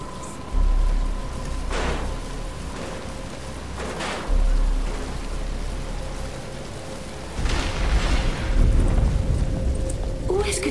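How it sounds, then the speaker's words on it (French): Rain falls in the Batman Arkham Asylum video game, a steady wash with deep rumbling swells and a heavier surge near the end, heard over a low game drone. "Il commence à pleuvoir."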